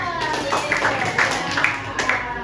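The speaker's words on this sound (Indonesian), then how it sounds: "Tepuk tangan dulu dong." Children in a classroom clap together after a Snow White story lesson, a short burst of brisk, fairly close claps over a murmur of voices.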